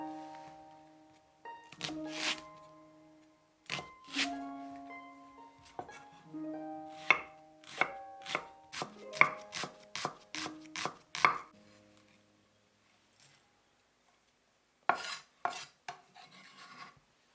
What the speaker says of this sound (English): Thinly slice 2 leek whites.